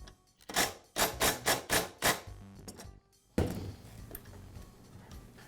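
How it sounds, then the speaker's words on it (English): A Troy-Bilt backpack blower's new pawl is tightened onto the crankshaft with an impact driver, which gives a series of about five loud, evenly spaced hammering bursts and then a short pause before one more sharp burst, with no talking. "I'll thread it onto the crankshaft and tighten it with the impact driver."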